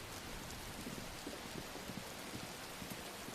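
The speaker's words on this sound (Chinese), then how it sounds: "这才过几天啊，就下这么大雨。" Heavy rain falls steadily outdoors at a residential building, a faint, continuous hiss of dense rain with scattered soft patters and no voices.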